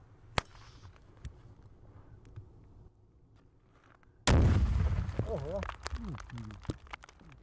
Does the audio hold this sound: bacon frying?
no